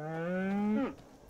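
A single drawn-out cow moo from a farm animal in the video game Skyrim, clear and close, its pitch holding steady before sliding sharply downward as it ends, with no talking.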